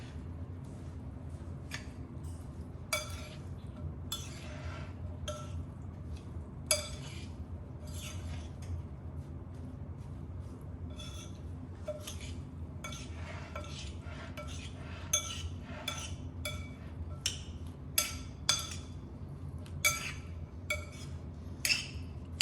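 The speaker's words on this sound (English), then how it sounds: "We're going to stir it up." Spoon stirring corn salad with lime, olive oil, salt and pepper in a bowl, scattered clinks and scrapes against the bowl at irregular intervals over a low background hum, fairly quiet with no speech.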